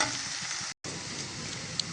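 Onions soften and start to brown in a hot pan, frying with a steady close sizzle that is broken by a short silent gap, with no voices.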